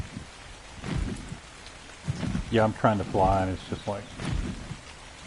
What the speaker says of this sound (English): I love how it rains so much on these islands